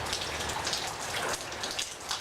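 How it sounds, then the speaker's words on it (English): Springtime rain falls steadily, a dense patter of drops hitting surfaces with a continuous hiss, fairly close and unbroken, with no voices. "Just enjoying the lovely springtime rainy season weather."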